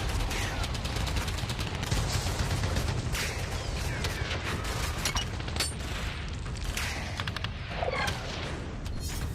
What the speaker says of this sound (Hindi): बाकी कसर अमेरिका की छोड़ी तोपों ने पूरी कर दी है, जिससे तालिबानी नॉनस्टॉप बारूद बरसा रहे हैं।